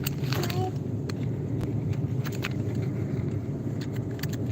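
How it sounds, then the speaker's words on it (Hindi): A car driven on a road by a hired driver on a sunny day, giving a steady close engine and road rumble throughout, with light rattles and clicks inside the cabin. "ये हमारे ड्राइवर अंकल है, गाड़ी चला रहे हैं।"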